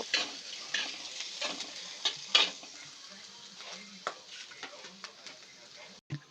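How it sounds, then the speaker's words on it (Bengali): Chopped ginger frying in leftover egg-frying oil in a pan, with a steady soft sizzle under intermittent scraping stirs and light clinks of the utensil, close and fairly quiet. "ওই তেলের মধ্যে আমরা দিয়ে দেব আদা কুচি দিয়ে একটু ভালো করে নাড়িয়ে নেব"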